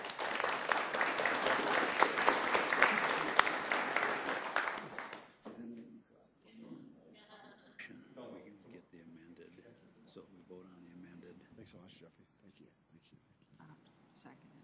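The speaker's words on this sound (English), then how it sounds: "Let's give him a round of applause." A city council meeting audience applauds loudly for about five seconds, a dense steady clapping that cuts off abruptly, followed by quieter talking from a speaker in the chamber.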